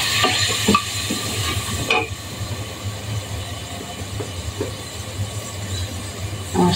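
Onion paste and garlic paste frying in hot oil make a steady, close sizzle with occasional clanks and scrapes of a utensil against the pan, and no voices.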